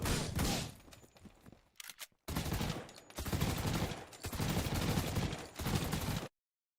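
Video-game gunshot sound effects, heard as a rapid series of loud bursts of gunfire with brief gaps between them, ending abruptly in silence.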